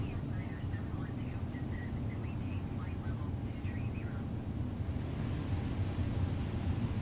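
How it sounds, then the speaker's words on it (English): An Airbus A320neo's engines at low thrust in Microsoft Flight Simulator give a faint, steady low drone and rumble inside the cabin, with some thin whining tones over it. "You guys hear those engines?"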